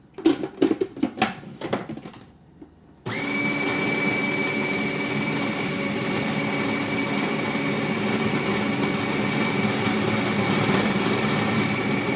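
An electric mixer beating almond flour and coconut mixture starts abruptly after a few soft clinks and runs as a steady, loud, continuous whirring drone until the end, with no talk.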